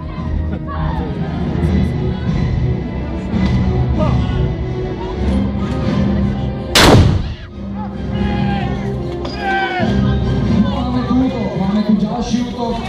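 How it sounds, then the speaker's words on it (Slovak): A historic chamber cannon fires a single loud, sharp boom during a castle siege reenactment, heard mid-clip over constant crowd noise and shouting, with people talking throughout. "Komorové dielo naozaj dokáže strieľať veľmi rýchlo a ďalší výstrel nasleduje za necelú minútu."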